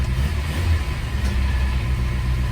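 A Geo Tracker engine running after a no-start repair, a steady, close, low rumbling idle with no change in pace for a few seconds.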